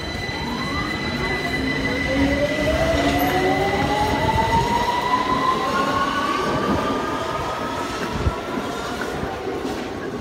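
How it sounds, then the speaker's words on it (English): A London Underground Victoria Line train pulling out of the platform at Victoria station during peak hours, its motor whine rising steadily in pitch over a loud, continuous rumble of wheels, with some faint squealing. "The train is ready to depart."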